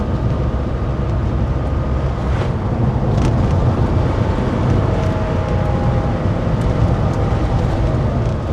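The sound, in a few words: 1985 Porsche 911 Carrera driving with windows down, wind noise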